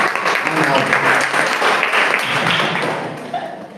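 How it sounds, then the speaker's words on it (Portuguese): An audience applauds steadily in a church teaching session for the high priest, dense clapping sustained throughout and fading slightly near the end, with a voice briefly audible at the close. "Uma salva de palmas para o nosso sumo sacerdote."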